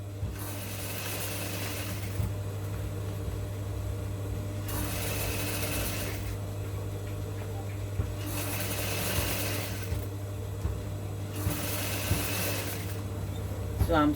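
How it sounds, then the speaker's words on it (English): A sewing machine stitches down a corset gown with crinoline, running in steady, even stretches of whirring, with a constant low motor hum throughout and brief pauses between runs. "So I'm sewing it down."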